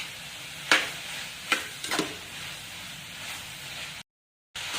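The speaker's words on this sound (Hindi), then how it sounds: "अब मैं इस स्टेज पे आके इसके अंदर मैगी नूडल्स डाल रही हूँ।" Boiled Maggi noodles being stirred into a sautéed spring roll filling of vegetables and mushrooms, a soft sizzle with a few scraping strokes of a spatula in the pan, then a brief cut to silence.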